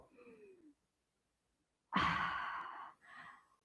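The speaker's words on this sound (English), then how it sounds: "Let's take a deep breath." A keynote audience takes a deep breath in and then lets it out together in one long, breathy sigh that is heard close and fairly loud after a silent pause.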